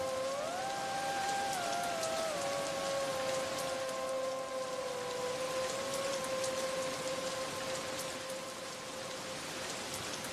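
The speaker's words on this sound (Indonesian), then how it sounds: "jatuhnya rintik-rintik air hujan yang mula-mula jarang kini menjadi makin deras" Rain falling steadily, a soft continuous patter that holds even throughout, with a faint tonal drone running through it and no voices.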